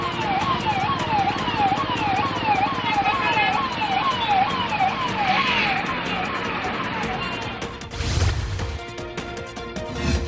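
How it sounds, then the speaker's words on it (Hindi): An ambulance stuck in a traffic jam on the Noida DND flyway wails with a loud, rapidly rising and falling siren. The siren repeats steadily amid traffic noise, then a brief thump and a burst of noise break in near the end. "डीएनडी पर ही एक एम्बुलेंस जाम में फंस गई थी।"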